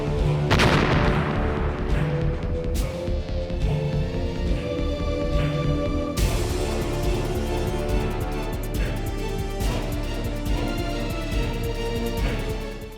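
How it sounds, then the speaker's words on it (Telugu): A loud explosion blast in a Telugu TV drama scene, an opening boom followed by a dense, sustained roar of rumbling and crackling that fills the whole stretch at close range. "బ్లాస్ట్"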